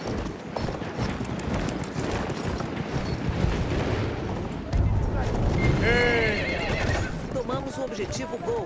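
A horse neighs loudly in the World War I shooter game Battlefield 1, whinnying twice over galloping hooves and battle rumble while someone talks excitedly.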